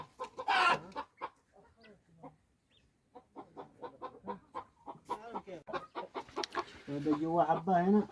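Chickens cluck and squawk in short bursts, close by, with several birds calling over one another, in a village in Saudi Arabia.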